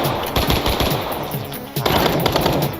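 An M16 rifle in a Minecraft gun mod fires loud rapid automatic bursts in dense back-to-back volleys, with a short lull in the middle before the firing resumes.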